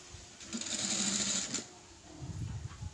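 A sewing machine runs a short burst of stitching on fabric piping, whirring steadily for about a second before stopping, followed by faint handling noise.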